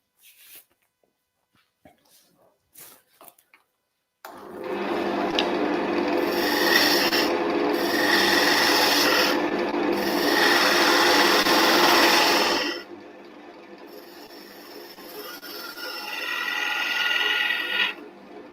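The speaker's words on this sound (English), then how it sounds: "Quick clean up pass with the skew chisel just on the base here" Skew chisel cutting wood on a lathe while turning a Christmas decoration: a loud, steady rasping shear lasting several seconds, a brief break, then a softer second pass, after faint clicks at the start.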